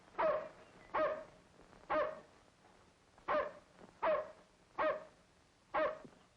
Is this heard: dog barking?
yes